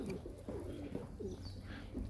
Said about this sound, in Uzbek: Suv ichyapti kaptar.